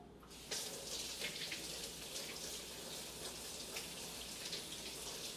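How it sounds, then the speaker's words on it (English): Water from a tap runs steadily over a freshly peeled potato, a close, constant hissing splash starting after a brief quiet moment and continuing alone. "I'm gonna rinse this off."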